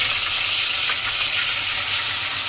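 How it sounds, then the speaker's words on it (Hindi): Ginger and garlic fry in hot oil left from frying onions, giving a loud, steady, close-up crackling sizzle that holds evenly throughout without any voices. "2-3 मिनट अदरक लहसुन को पास से भूनेंगे"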